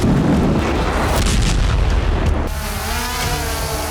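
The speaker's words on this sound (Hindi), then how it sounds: "फ्रंट लाइन पर MiG-29 ने हैमर बमों की बरसात भी की" Bombs dropped by MiG-29 jets exploding on a front line, a dense, rumbling series of heavy booms rolling together for a few seconds before fading into a lower, distant reverberating roar.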